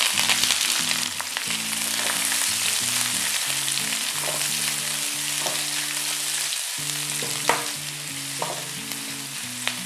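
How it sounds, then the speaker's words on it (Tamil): Sliced onions fry in oil with a loud, steady sizzle and occasional crackles and stirring scrapes, close up and continuous. "வெங்காயம் வந்து கொஞ்சம் நல்லா குக் ஆகட்டும்."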